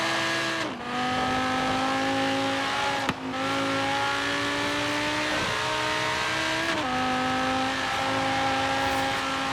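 Two supercars, an Audi R8 V10 Plus and a Lamborghini Huracan, race in Forza Horizon 3, their engines revving loud and close with repeated rises in pitch and sharp drops at the gear shifts.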